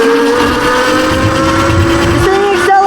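Yozma IN10 electric scooter accelerating hard on a top speed run, its motor whine rising steadily in pitch over a loud continuous roar of wind and road noise.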